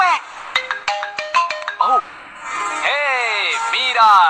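A mobile phone ringtone plays in a Hindi-dubbed South Indian comedy film, bright stepped synth tones followed by sweeping melodic chirps, loud and close, with voices speaking alongside.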